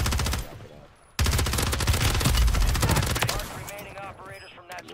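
Rapid automatic gunfire in the video game Warzone 3, loud, dense bursts that briefly stop, then resume in a long sustained volley before tapering off, with faint voice chat underneath.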